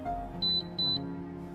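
A coffee machine gives two short, high electronic beeps in quick succession, fairly clear over a low background hum.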